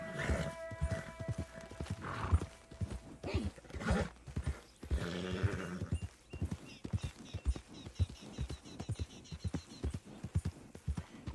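Rapid, rhythmic hoofbeats of a horse galloping in the video game Red Dead Redemption 2, with a whinny and a snort near the start, crisp and close.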